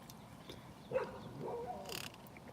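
A few faint, distant dog barks rise briefly from a quiet dog park, with soft outdoor background between them.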